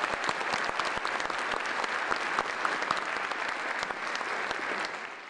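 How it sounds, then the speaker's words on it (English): Steady, dense applause from a large conference audience thanking the morning's presenters at a placemaking conference, sustained and even throughout, easing slightly at the end with no talking over it. "Please join me in giving them a round of applause"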